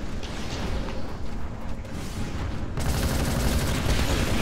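Dense, continuous gunfire from the video game Titanfall, a steady loud barrage of rapid shots that swells slightly louder partway through, with no pauses.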